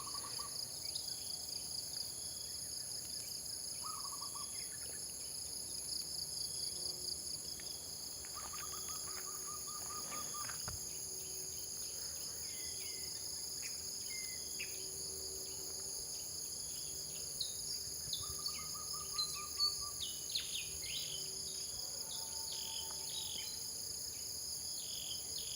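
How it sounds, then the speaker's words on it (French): Crickets chirping steadily through the night, a dense high-pitched trilling that never lets up, with a few faint bird calls or hoots now and then in the distance. "J'écoutais mes grillons"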